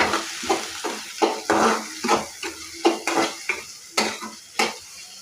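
Five eggs and spices are whisked in a bowl, close-up, with a rhythmic series of about a dozen sharp clinking strokes of a utensil against the bowl and no talking.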